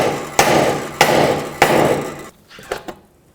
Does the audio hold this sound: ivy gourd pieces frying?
no